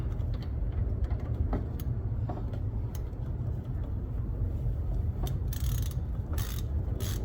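A ratchet fitted with a swivel clicks as it tightens the negative battery cable nut on a 2001-2004 Nissan Pathfinder or Infiniti QX4; rapid, close metallic ratcheting runs steadily throughout.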